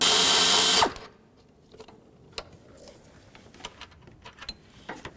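A power tool whirs loudly for just under a second while loosening a bolt on a 2002-06 Toyota Camry during knock sensor replacement, then cuts out, leaving quiet clicks and handling of tools and parts.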